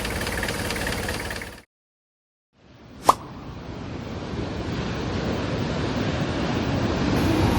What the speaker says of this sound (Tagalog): Grabe yung alon dito guys.